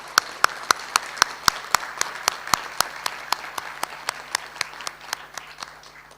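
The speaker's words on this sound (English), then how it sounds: "A big round of applause for our diploma students." Applause at a graduation ceremony for diploma students after the conferment of diplomas, heard as a steady run of distinct, fairly close claps in a regular rhythm over a soft bed of wider clapping.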